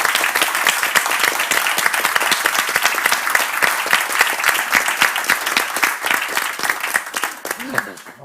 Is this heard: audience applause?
yes